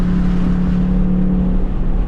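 Ford Mustang S650 downshifting in manual mode: a loud, close engine drone holds a steady low tone for about two seconds with no talk over it.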